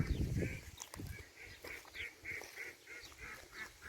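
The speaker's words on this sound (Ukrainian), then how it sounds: "А качки вон вертаються додому." Ducks quack in a repeated series of short nasal calls at moderate distance, with a low rumble of handling noise at the start.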